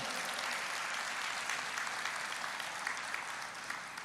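A church congregation claps steadily for several seconds, a dense even applause with no talking over it.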